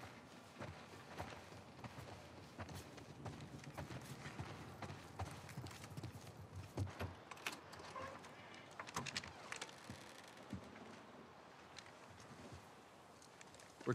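Horses in the game The Last of Us Part I clop along with faint, irregular hoofbeats on hard ground, heard at low level amid soft ambient rustle and occasional thuds, without speech.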